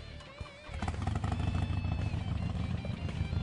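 A 2007 Harley-Davidson XL1200C Sportster 1200 Custom motorcycle engine starts and idles with a deep, rumbling throb, steady and close.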